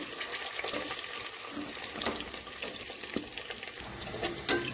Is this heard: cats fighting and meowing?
no